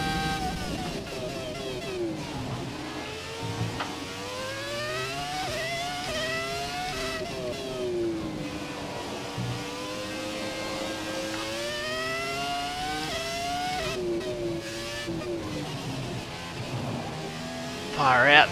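An F1 car engine from the racing game F1 2017 revs continuously, climbing and dropping through gear changes with a sharp high whine, loud and close throughout with no talk.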